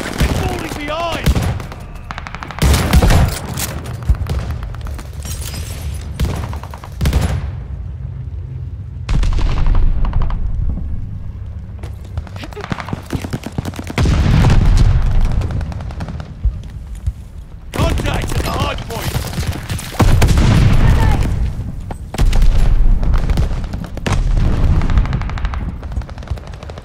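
Call of Duty: Vanguard multiplayer match with loud bursts of automatic gunfire and booming blasts coming in repeated clusters, with short lulls between them and in-game voice callouts over the action.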